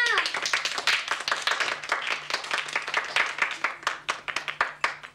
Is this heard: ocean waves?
no